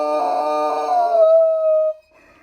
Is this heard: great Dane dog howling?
yes